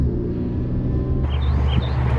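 An Acura NSX with a titanium dual-mode exhaust in quiet mode gives a low, steady rumble, close and constant, with a slight shift in tone partway through.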